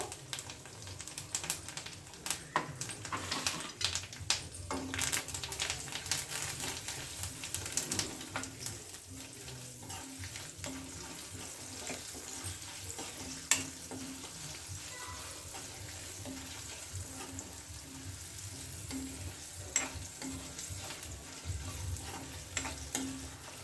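Garlic cloves, curry leaves and turmeric frying in hot oil give a steady close sizzle, with occasional sharper crackles and spatters throughout.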